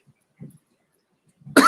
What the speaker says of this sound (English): I still have a cough from being sick this week